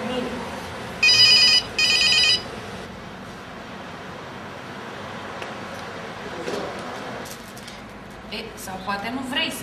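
An old telephone bell rings in two short loud bursts, then indoor room tone follows with people talking quietly and a few small knocks.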